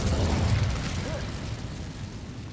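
The Incendio fire spell is cast in the video game Hogwarts Legacy, a deep roaring whoosh of flame that starts strong and gradually eases off over a couple of seconds with no voices.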